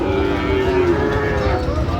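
Friesian and cross-breed bull calves moo loudly and close by at a cattle market in Dinajpur, a sustained low bellow with steady crowd noise behind it.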